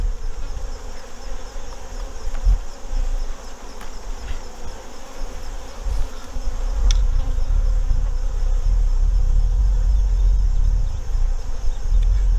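Honey bees buzz in a dense, continuous drone around an open beehive during an August inspection, with occasional handling knocks and low rumbles nearby and no voices.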